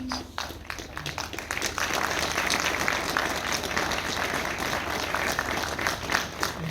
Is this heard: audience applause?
yes